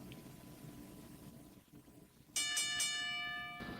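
A wrestling ring bell rings to start a match, three quick bright clangs in a row that then ring on and fade, after a quiet stretch of low crowd murmur.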